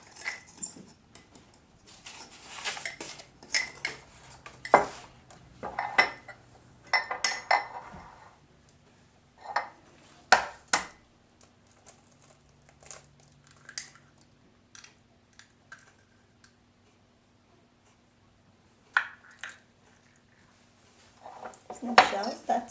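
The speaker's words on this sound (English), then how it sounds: "carefully crack the egg and blend thoroughly into the mix" An egg being cracked and blended into cake mix in a kitchen setting, heard as scattered clinks, taps and scraping of utensils against a bowl, with quiet gaps between bursts and faint voices in the background.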